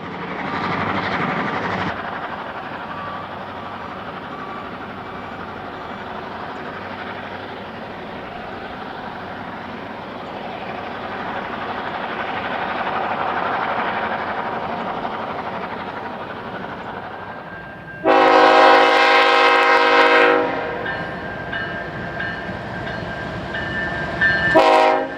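A diesel freight train with a lash-up of several locomotives rolls past a busy junction bridge, its steady rumble and rail noise building before a loud multi-note horn blast cuts through near the end.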